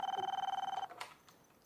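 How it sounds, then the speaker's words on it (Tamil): A telephone rings at home at night with a fast, buzzing electronic trill that pulses steadily for under a second and then cuts off, leaving a quiet room with faint shuffling. "யார் இந்த நேரத்தில் ஃபோன் பண்ணுறா?"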